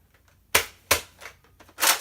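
A modded double-barrelled Nerf Retaliator blaster fires in sharp, close plastic snaps, about four quick pops in two seconds with one softer, against a quiet background.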